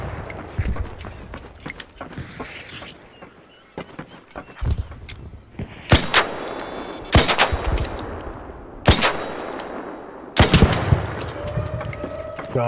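Gunfire in the video game Arc Raiders: sharp, loud bursts of automatic fire at irregular intervals, the heaviest volleys coming in the latter half, set against quieter ambient game noise and scattered smaller impacts.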